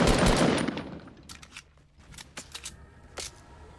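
Gunfire in Fortnite Battle Royale: a loud rapid burst opens, then scattered sharp single shots and clicks pop at varying distances.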